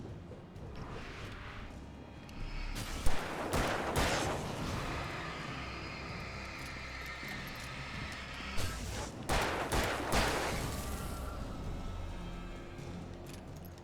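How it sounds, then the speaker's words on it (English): Gunfire in the video game Alan Wake, likely a revolver: two dense bursts of loud, sharp shots, one at the start and another later, over a steady low rumbling game background. "Because gunshots are loud in this game."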